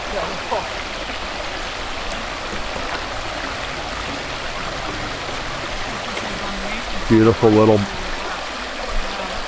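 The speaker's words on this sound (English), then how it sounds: "Beautiful little creek." A small creek in Pennsylvania in spring flows steadily, with a broad rushing and trickling water sound throughout; a short burst of birdsong chirps briefly near the end.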